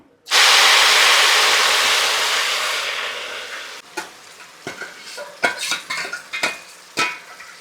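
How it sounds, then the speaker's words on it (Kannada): Boiled tamarind extract poured into a hot pan of frying spices, lentils, neem-style leaves and roasted sesame for puliyogare gojju, bursting into a loud steady sizzle that slowly fades, followed by sharp clinks and scrapes of a spoon stirring against the pan. "ಹುಣಸೆಹಣ್ಣು ಕುದಿಸಿರೋದನ್ನು ಈಗ ಇದಕ್ಕೆ ಸೇರಿಸ್ತಾ ಇದ್ದೇನೆ"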